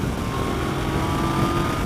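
A 2015 Yamaha FJ-09 motorcycle accelerating at 5,000 RPM in fourth gear, a steady droning engine tone with wind rush, heard from the rider's position with no talking.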